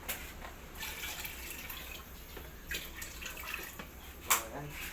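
Water is poured into a pot of sautéed pork: a soft, uneven splashing and trickling with a brief louder splash near the end, heard against a quiet kitchen background.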